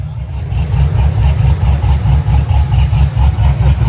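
A cammed 6.2-litre V8 in a 1972 Chevy Chevelle SS with long-tube headers and dual exhaust idles loud and close, its deep lumpy rumble loping in an uneven rhythm throughout.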